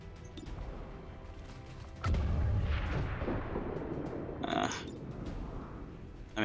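A shot fired in the XCOM 2: War of the Chosen video game: a heavy, booming blast with a rumbling tail, followed by a second, sharper burst of impact noise.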